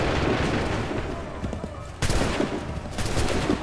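Musket volleys crack out in Assassin's Creed 3, dense bursts of gunfire landing around the start, at two seconds and near three seconds, layered over battlefield noise and shouted commands.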